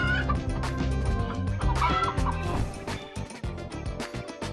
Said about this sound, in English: these chickens are in too much of a hurry to go to the supermarket